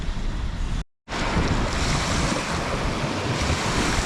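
Strong wind blows across a Lake Superior beach on Minnesota Point, buffeting the microphone with loud, continuous rushing noise and surf underneath, cut by a brief dropout of near silence.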